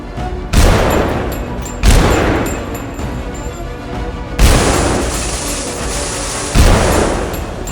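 Gunfire from the video game Eternal Evil booms out in four loud, heavy shots spread over several seconds, each leaving a long ringing decay.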